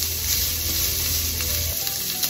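A homemade tortilla frying in a pan toward golden brown gives a steady, close sizzle with a low bubbling hiss, alone and without talk.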